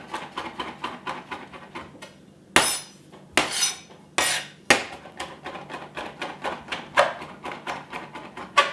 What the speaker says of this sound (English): So let me get this sage leaf chopped up